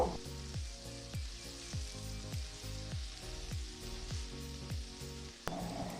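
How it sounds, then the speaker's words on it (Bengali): Fried fritters are stirred into a vegetarian banana flower curry (mochar ghonto) over steady close sizzling, with a regular scrape of the spoon against the pan roughly every half second. "এই সময় আমি ভেজে রাখা বড়াগুলো দিয়ে দেব মোচার সঙ্গে মিশিয়ে দেব"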